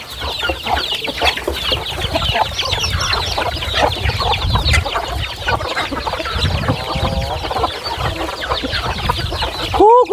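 A flock of farm chickens clucks and chatters close by in a busy, overlapping stream, with a short squawk near the end and no voices.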